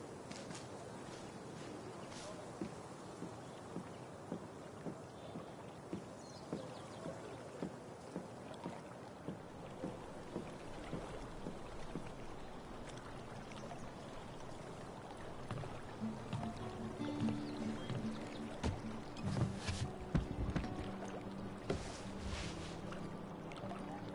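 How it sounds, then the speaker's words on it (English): Kayak paddle strokes splashing through water in Life is Strange True Colors, a steady rhythmic dip-and-pull repeating every second or so, with a fuller wash of water building later. "If not for the paddling, kayaking would be super relaxing."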